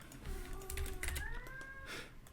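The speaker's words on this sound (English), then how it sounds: "Cat's going crazy tonight." A cat meows indoors, with drawn-out rising and falling cries over soft computer keyboard typing, faint and somewhat distant.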